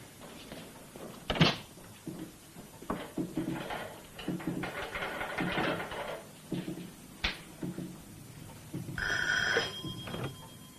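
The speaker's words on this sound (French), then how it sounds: "Ah, le téléphone." A telephone rings in a doctor's house in a 1968 French science-fiction film, a bright bell burst near the end after a few thuds and bumps of movement in a quiet room.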